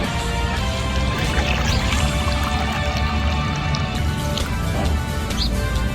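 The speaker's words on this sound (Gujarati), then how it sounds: "તો મિત્રો ભરી નાખ્યું પાણીની કેન" Water pours steadily into a water can, a continuous splashing gush that stays loud and even throughout with no pauses.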